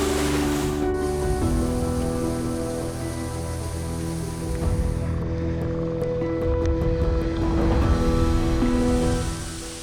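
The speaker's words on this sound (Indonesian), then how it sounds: "Air terjun yang jernih dan dingin" A clear, cold waterfall in Tangse pours down in a steady, full rushing roar that stays loud and continuous throughout, with no talking over it.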